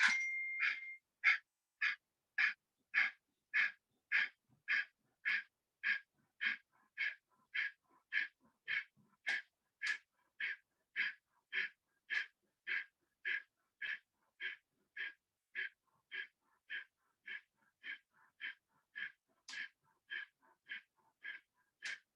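Kapalbhati yogic breathing: a long, even series of about thirty forceful nasal exhalations, each a short sharp puff at a steady rhythm of roughly one every two thirds of a second, close and alone, with no talking.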